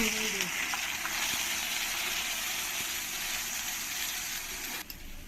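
Garlic paste and ginger-green chili paste frying with whole spices for rajma, a steady, loud sizzle holding throughout with a brief voice near the start.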